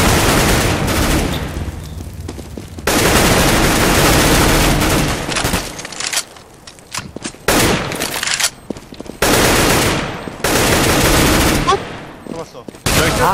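Rapid bursts of loud gunfire in the video game Counter-Strike, automatic fire broken by short pauses, dense and close.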